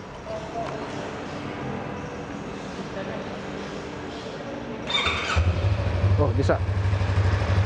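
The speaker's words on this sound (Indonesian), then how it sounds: "Coba sekarang kita hidupin motornya sebentar." A 2021 Yamaha MT25 motorcycle engine starts about five seconds in and settles into a steady, close idle, with people talking briefly over the background noise before it catches.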